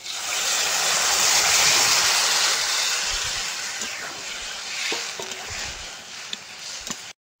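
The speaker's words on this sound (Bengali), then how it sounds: "ঝোলটা ফুটে উঠেছে" A sour fish curry broth with raw tamarind boils hard in a pan, a loud, close, steady bubbling hiss that eases slightly before cutting off abruptly at the end.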